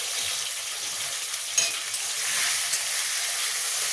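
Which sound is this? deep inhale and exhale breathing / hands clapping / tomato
tomato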